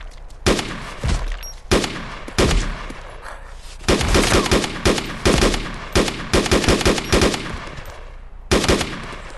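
Gunfire in the video game DayZ: loud bursts of rapid automatic shots alternating with single cracks, clustered in several volleys with brief gaps, close and dominant with no talking.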